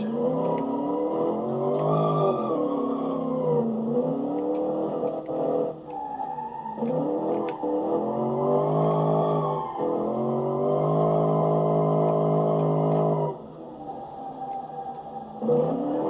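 Pony car engine in the 2012 pony car challenge, loud and close, revving up and down through gears in rising and falling sweeps with brief lifts off the throttle.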